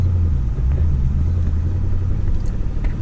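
A manual-transmission car pulls away in first gear, its engine a low steady rumble heard from inside the cabin, fairly loud and unbroken for a few seconds with no talk.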